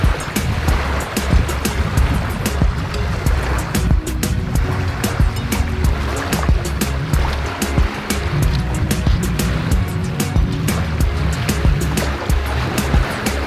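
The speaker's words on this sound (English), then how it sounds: "looks like we got ourselves a beach walk" Ocean surf rolls and washes steadily along a beach, a dense, continuous roar close by, while someone walks on the sand.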